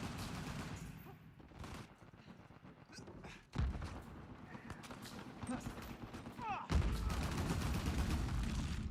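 Repeated shots from the Kerrigan gun in the video game Uncharted, a string of bursts with two sharp, louder onsets partway through, heard under voice chatter.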